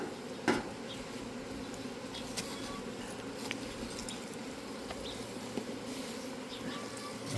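Honey bees buzz around a beehive at a New Zealand apiary in summer, a steady faint drone with a few brief clicks and taps, no talk.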